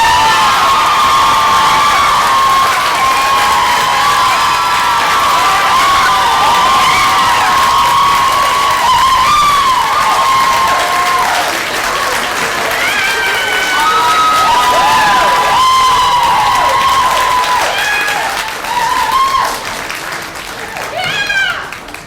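Loud convocation audience at a Founder's Day ceremony cheering, whooping and applauding steadily for about twenty seconds, with high shouts and voices rising over continuous clapping before it begins to thin out at the end.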